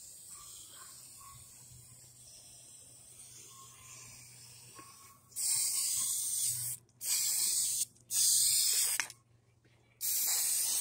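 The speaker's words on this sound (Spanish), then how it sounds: "también esto se puede pintar con el spray de temperaturas altas" High-temperature spray paint hisses from an aerosol can in several loud, separate bursts of a second or so each, with short gaps between them and quiet room tone before the spraying starts.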